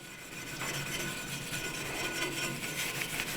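Fine 0000 steel wool rubs against a woodturning gouge in quick, soft scratchy strokes, close by and fairly quiet, with no voices.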